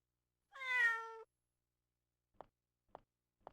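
A single clear meow from a cat in the video game Undercover AD2025 Kei, followed by silence and a few soft evenly spaced ticks.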